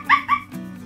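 A dog close by gives two quick, high yipping barks, then a short, low whine trails off.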